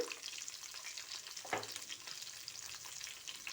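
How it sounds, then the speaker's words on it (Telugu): Capsicum fries in oil in a pan, a faint but continuous crackling sizzle heard up close, with a single soft utensil tap partway through and no voices. "అవి కొంచెం పచ్చి వస్తపోయేదాకా మనం ఆయిల్లో మగ్గించుకుందాము."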